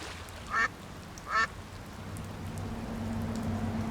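Two short, distinct duck quacks sound close together over steady falling rain in a video game, the rain continuing alone afterward.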